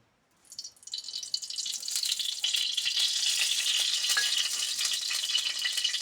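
Cooking oil sizzles and crackles in a pan, starting suddenly after a moment of quiet and holding a loud, steady hiss throughout.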